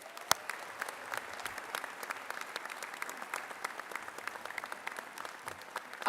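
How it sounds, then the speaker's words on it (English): An audience at a medical school white coat ceremony applauds steadily throughout, a dense, moderately distant wash of many hands clapping without a break. "Let's give them a round of applause."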